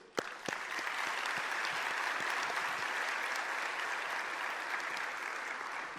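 Sustained applause from an audience of employers gathered for a speech by İmamoğlu, dense and steady throughout with a few sharper claps at the start.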